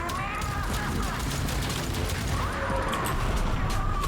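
In the Warframe video game, guns fire rapidly at enemies tethered together, a continuous crackling fusillade with mechanical clatter under a noisy battle backdrop.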